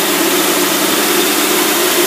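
A boat engine runs steadily and loudly right after starting, rough and running on only one side, a constant close drone with no talk over it.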